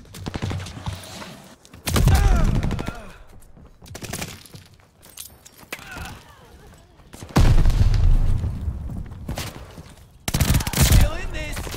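A sticky bomb is thrown and explodes amid gunfire in COD Vanguard, with loud bursts of shots and blasts breaking through at intervals over a noisy battle background, with a voice talking between the bursts.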